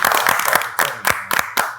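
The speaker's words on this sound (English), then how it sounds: "Can we get a round of applause?" A small group claps at the end of a podcast interview, with uneven bursts of close hand claps rising and falling and no talking over them.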